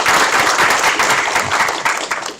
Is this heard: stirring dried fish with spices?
no